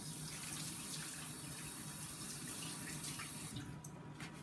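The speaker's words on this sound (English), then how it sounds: "Just giving my hands a wash." Tap water running steadily into a kitchen sink while hands are washed, a close, even splashing stream with small shifts as hands move under it.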